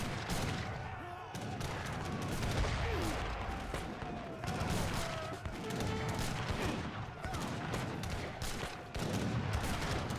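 Howitzers and other gunfire boom and crackle in a crowded Age of Empires III free-for-all battle, a dense continuous din of shots and blasts with voices talking faintly underneath.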